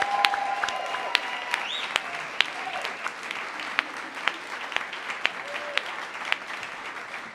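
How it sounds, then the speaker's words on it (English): An audience at a university undergraduate awards ceremony gives a sustained round of applause, dense continuous clapping heard close and steady throughout, with occasional sharper claps standing out. "Can I just ask you all to give them one big final round of applause?"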